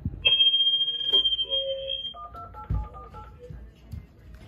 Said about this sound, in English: So I'm just gonna spam a bunch of numbers.